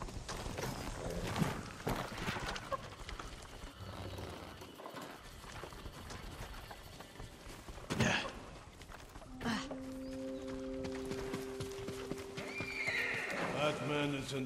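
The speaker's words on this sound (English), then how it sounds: "Follow those horses." Horses galloping with rapid hoofbeats and loud neighs in the video game Ghost of Tsushima, heard under game music while characters talk over them.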